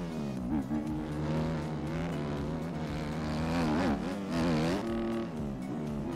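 Ken Roczen's Suzuki motocross bike in MX Bikes gives off a steady buzzing engine drone with rising and falling revs and a held, limiter-like pitch, playing at moderate volume.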